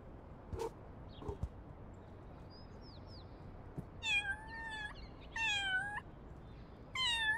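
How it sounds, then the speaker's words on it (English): A kitten meows in the video game Little Kitty Big City, three clear, rising meows spaced a second or so apart, close and fairly loud over a quiet background with a few soft clicks beforehand. "We have a meow button."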